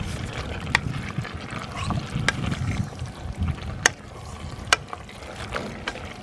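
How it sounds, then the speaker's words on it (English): Venison chili with beans and Rotel being stirred in a pot: a low, soft scraping churn runs throughout, broken by a few sharp clicks of the spoon against the pot, close and fairly quiet. "Let's give it a little stir right here."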